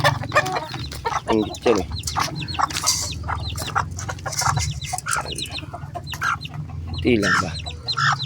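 Chickens cluck and squawk busily up close while being fed, a dense overlapping chorus that runs throughout, with someone talking briefly over them.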